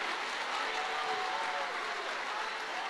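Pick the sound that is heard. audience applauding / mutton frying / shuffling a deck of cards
audience applauding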